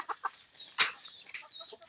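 Native chickens on a Palawan farm cluck in short, soft bursts, with one louder fowl call standing out midway against quiet outdoor background.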